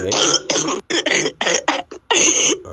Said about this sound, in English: It's non-stop coughing.